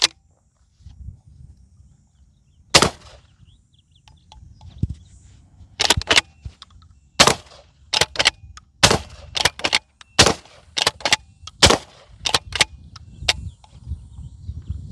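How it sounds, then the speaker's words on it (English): Suppressed shots from a 12 gauge Iron Horse pump-action shotgun fired outdoors: about a dozen sharp, loud reports in an irregular string over the second half, with quieter handling noise and low rumble between them and no talk. "Dan's never shot this Iron Horse before"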